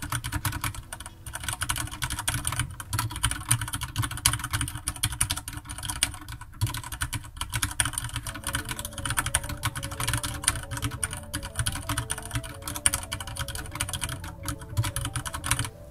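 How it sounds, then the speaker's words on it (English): A Corsair K65 RGB Rapidfire mechanical keyboard with Cherry MX Black switches being typed on: a steady, dense clatter of close keystrokes, loud and continuous, with no voices. "A lot of ping, a lot of resistance, but if you don't bottom up the keys, this Cherry MX Black is still fine"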